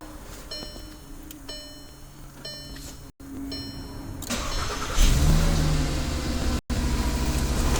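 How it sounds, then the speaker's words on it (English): A Volkswagen Passat starts up via a CrimeStopper remote starter: faint electronic chimes and clicks, then the starter cranks and the engine catches into a rising rev before settling to a steady idle, close by. "Our vehicle is going to start up at this point."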